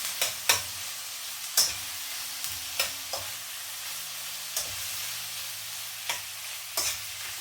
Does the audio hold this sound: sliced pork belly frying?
yes